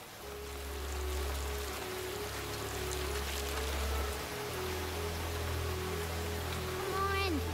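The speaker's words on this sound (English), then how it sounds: "The rain is only getting worse, Apple Bloom." Heavy rain falls in a steady, dense hiss through a cartoon outdoor scene, with a low droning rumble underneath and a brief rising whistle-like sound near the end.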